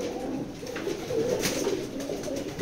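Racing pigeons of a fine pedigree line coo softly and continuously, a low murmuring at moderate distance, with no talk.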